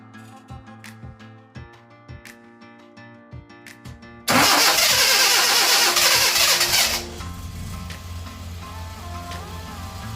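A classic Mini's engine, newly fitted with an ECU, is ticked over by the starter in a series of short cranking pulses, then abruptly fires into a loud, rough rev before settling to a steadier, quieter idle; no talking.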